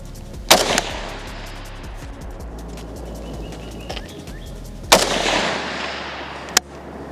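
Two loud rifle shots crack from a plastic-shovel AK firing at a target 200 yards away outdoors, each a sharp blast with a trailing echo, separated by several seconds, followed by a smaller sharp pop near the end.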